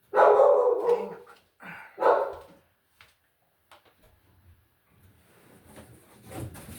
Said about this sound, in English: Don't bark. Do not bark,